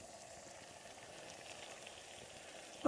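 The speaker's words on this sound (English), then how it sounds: "my water has come to a rolling boil" A pot of water for ramen bubbles at a rolling boil, a soft steady hiss and burble heard close up and alone, with a brief louder knock at the very end.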